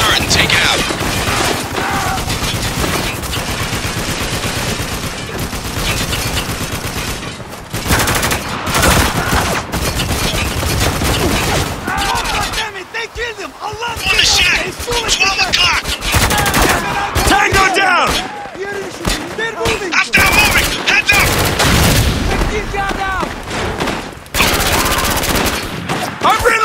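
In Spec Ops: The Line, a .50 cal machine gun turret fires in long, loud automatic bursts amid heavy gunfire, impacts and crashes, with short lulls between volleys and shouted voices in the mix.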